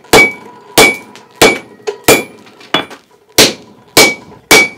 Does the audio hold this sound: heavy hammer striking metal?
yes